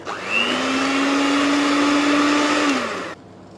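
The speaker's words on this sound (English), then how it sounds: "Beat to mix everything together." An electric mixer beats naan khatai dough ingredients, a steady loud motor whine that holds for about three seconds, then winds down and cuts off, close by with no speech.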